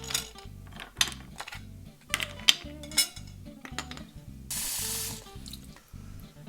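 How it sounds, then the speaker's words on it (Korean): Rinsed clams for clam soup are dropped into a metal pot, giving a run of clattering shell-on-metal clinks in uneven bursts, then a brief hiss of water near the end. "깨끗이 헹군 조개를요 먼저 냄비에 넣어주세요."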